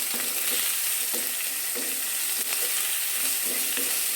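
Sliced onions with a little salt fry in a pan for a Kerala ridge gourd curry, a loud continuous sizzle broken by regular scraping strokes of a spoon stirring them close up.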